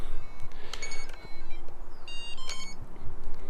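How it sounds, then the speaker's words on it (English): A UAV receiver chirps after its transmitter controller is switched on, giving a few short electronic beeps in quick succession, with a second small cluster of tones a moment later over a low background hum. "so there's the beep. That lets me know the receiver is being, or the transmitter is being received"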